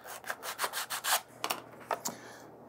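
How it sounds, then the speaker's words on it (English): A plastic toy surface being roughed up with 100 grit sandpaper, giving a quick series of faint, close rasping strokes in an irregular rhythm, with no talking. "I'm just roughing up the surfaces with some 100 grit here so it's got some tooth"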